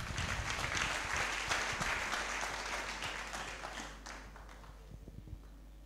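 A church congregation at a worship service applauds, a dense, sustained clapping that is loud at first, then tapers off and thins out toward the end.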